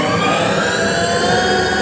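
A Gesits electric motorcycle rides at high speed in sport mode. It gives off a steady, loud, broadband roar of wind and motor that holds even and unbroken throughout, with no talking.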